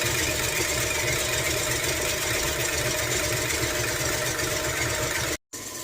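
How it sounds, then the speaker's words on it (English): A KitchenAid stand mixer beats egg whites to stiff peaks, its motor giving a loud, steady droning whir with a mechanical hum that runs without pause, then cuts out briefly near the end before starting again. "Now we're going to put the whites in the KitchenAid."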